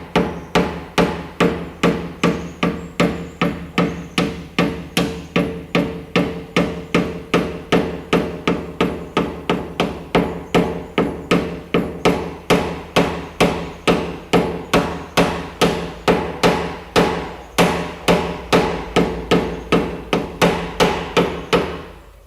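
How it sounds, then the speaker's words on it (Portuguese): A dent repair hammer and tool tap steadily at a crease dent in car body panel, a long run of rapid, evenly spaced metallic knocks, close and loud throughout with no talking. "vou continuar batendo agora."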